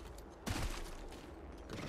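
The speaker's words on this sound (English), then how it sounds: "Taking fire." Gunfire in a multiplayer shooter video game, a short burst of shots over a steady background of game ambience, fairly loud but not dominating.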